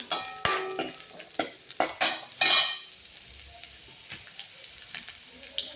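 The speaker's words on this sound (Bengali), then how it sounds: "একটু লাল লালভাবে আমি শাকগুলো ভেজে দেবো" Garlic, greens and black cumin fry in a pan while a utensil stirs and scrapes, giving sharp clattering hits over a soft sizzle, busy at first and then quieter with only light sizzling and occasional taps.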